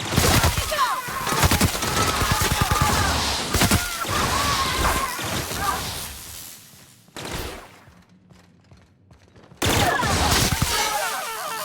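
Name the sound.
gunfire in the video game The Outer Worlds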